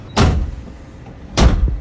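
A vehicle side door, apparently at a checkpoint stop, makes two short, loud broadband bursts about a second apart, like a door latch and slide, with no talk.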